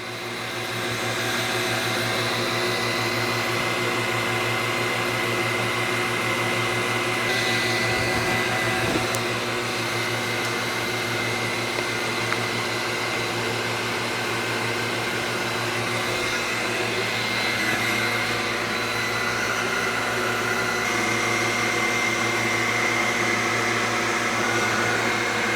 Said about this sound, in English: The total engrave time on this is 2 minutes and 57 seconds, because I'm just doing simple line engrave